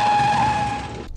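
A car drives past on a Prague street, a short, fairly loud whoosh of tyres and engine with a steady whine, fading at the very end with no voices.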